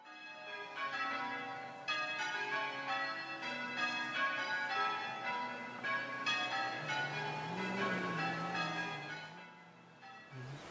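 Church tower bells in England peal out a tune to mark the hour, overlapping resonant strikes ringing in a steady sequence with long sustained hum, heard from a distance and alone.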